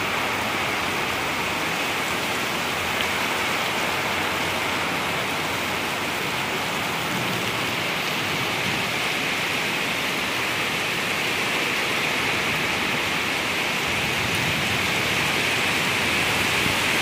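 Steady rain falls in a dense, even hiss that holds constant and fairly loud throughout, with no voices over it.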